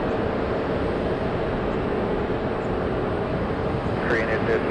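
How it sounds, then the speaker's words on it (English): A Korean Air Boeing 787 Dreamliner taking off on runway 28 at San Francisco, a continuous heavy engine rumble and roar filling the whole stretch, with a faint brief chirping near the end. "Korean Dreamliner taking off on the 28s"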